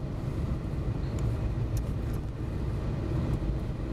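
Car driving along a road in winter, heard as a steady low rumble of engine and tyre noise from inside, constant and close, with no talking.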